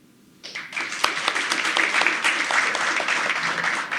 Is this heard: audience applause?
yes